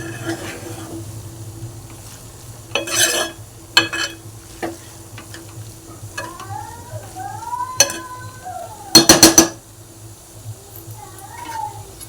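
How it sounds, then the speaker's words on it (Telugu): Cauliflower egg curry being stirred in a pan: a soft sizzle underneath, with a few scraping and clinking strokes of a spoon against the metal, close by, while someone speaks. "టూ మినిట్స్ ఈ విధంగా కలుపుకోవాలండి."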